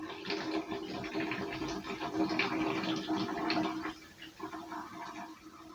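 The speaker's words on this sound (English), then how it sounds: "You should be able to hear it draining." Steady rushing, gurgling water drains from a fire sprinkler test valve for several seconds, fairly close, then drops to a quieter trickle near the end.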